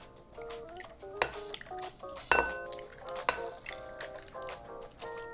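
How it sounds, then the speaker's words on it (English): Four eggs being beaten in a bowl for steamed eggs, giving a quiet, irregular run of clinks and taps of utensil against dish, with a few sharper knocks standing out. "我而家呢，整4隻蛋，首先呢，將啲蛋打好先"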